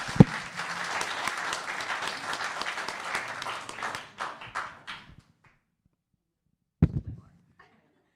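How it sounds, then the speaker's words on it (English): Applause at a town council meeting, a short burst of clapping from the room that fades out after about five seconds, then silence and a couple of isolated taps. "Let's have a round of applause for Alexandra."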